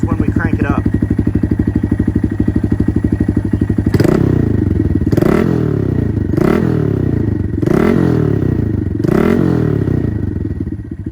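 A Honda Grom motorcycle with a dual exhaust idles loudly and steadily up close, then blasts through five sharp, evenly spaced throttle revs that each climb and fall back.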